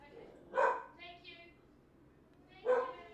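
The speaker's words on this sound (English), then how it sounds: "sorry about the dogs" Dogs barking indoors at home, two separate loud woofs about two seconds apart with a softer whimpering yip between, over quiet room noise.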